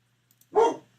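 A dog inside a house lets out a single sharp bark at someone outside, close and loud, after a brief silence with a faint low hum.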